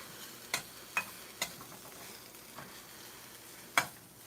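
Homemade barbecue beans simmer in a pan with a soft, low bubbling hiss, broken by a few sharp spoon taps against the pan at uneven intervals.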